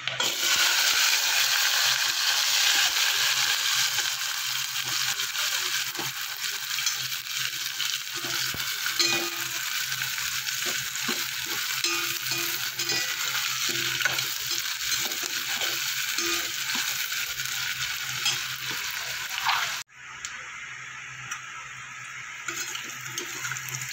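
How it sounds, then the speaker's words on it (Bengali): Chopped onion and whole garlic fry in oil for a Dhaba-style egg masala, a loud continuous sizzle with repeated scraping stirs throughout, dropping abruptly quieter near the end, with no talking. "এবার দিয়ে দেবো কুচানো পেঁয়াজ আর গোটা রসুন।"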